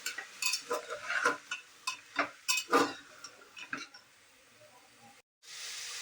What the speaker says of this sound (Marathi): आता याच्यात या स्वच्छ धुतलेल्या भाज्या सगळ्या घालायच्या आहेत. चांगलं परतून घ्यायचं आहे.